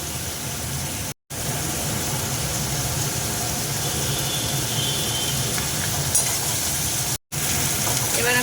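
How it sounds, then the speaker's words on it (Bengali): Tomatoes go into frying onions with turmeric for a pond-raised hilsa curry, giving a steady broad sizzling hiss that runs continuously, cut briefly by two short silent gaps. "পেঁয়াজটা আমার ভাজা ভাজা হয়ে এসছে। দিয়ে দেবো এবারে টমেটো"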